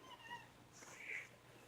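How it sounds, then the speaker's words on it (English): A house cat meows a few times in a home woodworking workshop, moderately close but soft, with a steady background hum. "This is my cat, Zeke."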